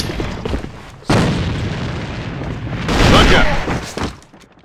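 A grenade blows up in the online shooter AVA (Alliance of Valiant Arms): a sharp, heavy boom followed by a longer rolling blast a couple of seconds later, both loud and close, with faint voices underneath.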